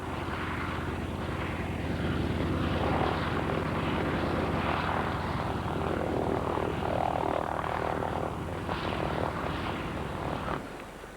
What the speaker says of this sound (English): One of her Wasp helicopters soon flew in.